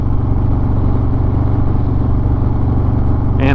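A 2020 Harley-Davidson Low Rider S with a Milwaukee 8 engine rumbles steadily at close range, a loud, even low throb holding throughout, with a brief higher burst at the very end.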